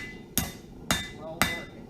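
A hammer strikes hot metal on an anvil while forging a leaf, four sharp ringing blows spaced about half a second apart, close and clear.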